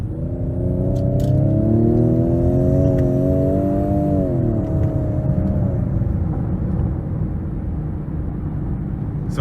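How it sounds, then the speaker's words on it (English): A 2019 Ford Edge ST SUV with a 2.7-litre twin-turbo EcoBoost engine accelerating hard in sport mode: a loud interior engine drone rising through the revs, dropping at a gearshift, then settling into a steady road rumble. "So pretty good acceleration."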